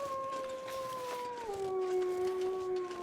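A single long wolf howl, fairly faint and distant, holds a steady pitch then drops lower and trails on over soft background noise.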